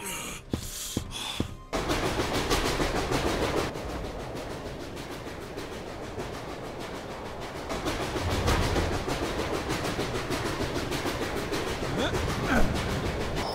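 A train rolling along the tracks in the video game Repella Fella, a steady rumbling clatter that swells midway, with a brief burst of other game noise at the start.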